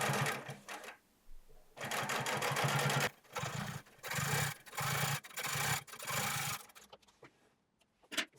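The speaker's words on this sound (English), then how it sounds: "Next we will double top stitch the seam." A sewing machine double top-stitches a jeans seam in several fast whirring bursts, separated by short pauses, close and clear.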